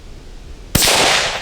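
A single sharp rifle shot from a Marlin 25 MN .22 rimfire fired outdoors at a steel plate target, loud and close, ringing briefly after the crack.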